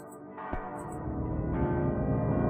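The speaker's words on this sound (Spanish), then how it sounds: "Ya escucho las campanas de la iglesia resonar." Church bells ring out with a sustained, resonant tone and struck peals swelling in loudness, alone without voices.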